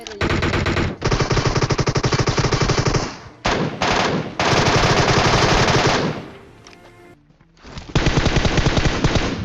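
Loud automatic gunfire from a video game shootout, in long rapid bursts that stop briefly around the one-, four- and seven-second marks before resuming.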